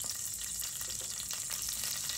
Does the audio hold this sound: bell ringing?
no